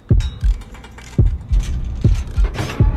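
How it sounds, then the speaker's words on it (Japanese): A heartbeat warning in the mobile horror game Horrorfield thumps in close, loud, low double beats that repeat at a quick steady pace, alone with no talk. "そして心音鳴り始める"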